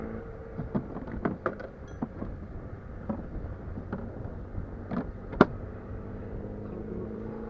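A Kuba VIP Yrack 250 motorcycle with its air filter removed idles quietly nearby. A low steady engine hum is broken by scattered sharp pops and clicks, one louder snap near the end.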